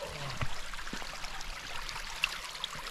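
A small creek in Ketchikan, Alaska runs close by in a soft, brief burble and trickle of water, with a couple of faint clicks and no talk.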